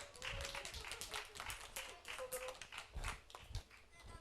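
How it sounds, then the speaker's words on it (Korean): A church congregation at a Sunday service claps in a brief, uneven burst of individual hand claps, fairly close and moderately loud, with some voices mixed in. "다시 한번 박수"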